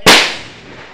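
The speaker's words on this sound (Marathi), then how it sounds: "फटाक्यांची आतषबाजी" A single sharp firecracker bang at a cricket tournament prize ceremony, loud and close, followed by a brief crackling decay that fades over a second.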